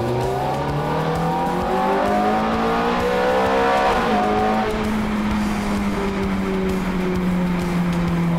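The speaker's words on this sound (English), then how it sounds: "What an engine." A Ferrari F43 engine revs hard beneath an elevated expressway, loud and close, its rising howl climbing in pitch, dipping briefly with a gear change, then holding a sustained, echoing drone off the concrete overhead.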